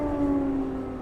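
An air raid siren wails at night in Mykolaiv, Ukraine, a sustained, steady, slightly falling tone heard briefly and at moderate distance, with no voices.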